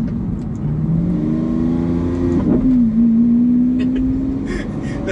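A 2017 Lamborghini Aventador S engine and exhaust revs loudly and steadily up close, the tone climbing and dipping through a shift, with faint crackles near the end and a voice briefly underneath.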